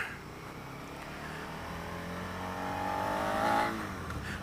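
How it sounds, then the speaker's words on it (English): A 2017 Suzuki SV650 motorcycle at full throttle in second gear, its engine note rising steadily in pitch and growing louder as it accelerates, heard from the rider's position with wind noise. "This is full throttle. So it goes over 60 in second."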